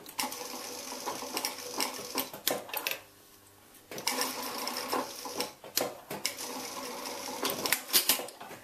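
A sewing machine stitches in rapid, close mechanical bursts, its chattering needle runs stopping for about a second of near silence before resuming in uneven stretches, with no voices.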